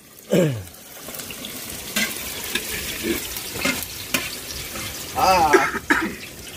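Onion and garlic sizzle in a pan, a steady broadband hiss running the whole time under scattered chatter and a few louder bursts of voices nearby.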